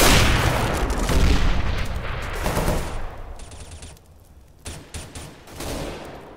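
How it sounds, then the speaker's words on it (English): A grenade goes off in the video game Counter-Strike: Global Offensive, a loud boom and roar amid rapid gunfire that rattles on and fades, with sharp bursts returning toward the end. "Grenade."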